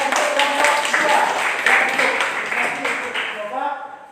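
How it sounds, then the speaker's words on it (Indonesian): Students in a classroom give a round of applause, a dense patter of clapping that holds steady and then tapers off, with voices talking over it. "Tepuk tangan"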